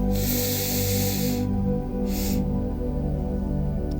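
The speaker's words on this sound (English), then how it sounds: "you take a full inhale through your nose deeply into your belly, and then you take another one in succession. It's like a double sniff" Two quick, forceful sniffs drawn in through the nose, each a harsh airy rush close to the microphone, the first longer and the second short, taken as a guided meditation breathing exercise.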